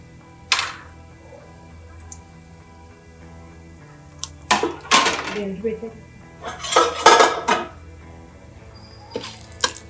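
Whole spices drop into hot melted ghee in a pressure cooker for cashew chicken keema pulao, giving sharp spluttering pops and metallic clatters of pot and spoon in several bursts among quiet stretches.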